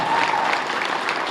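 A theatre audience at a playlet performance in Khammam, Telangana, breaks into dense, steady applause, a brief, even wash of many hands clapping close by.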